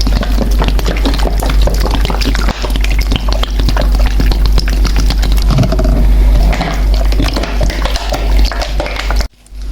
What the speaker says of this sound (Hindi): आपने तेल इतना डालना है।